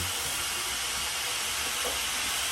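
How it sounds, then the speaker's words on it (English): Steam vents steadily from an Instant Pot's pressure release valve through a diffuser while pasta sauce cooks, a constant broad hiss at moderate level with no other sounds. "It diffuses the steam"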